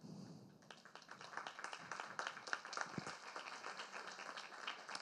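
Audience applause breaks out at an autumn university talk in Valencia. It swells quickly into steady, dense clapping from a room full of people and holds at an even level to the end.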